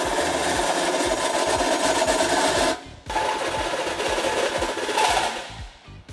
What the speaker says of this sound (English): Next, we will enlarge the inner hole on both bumper beam brackets.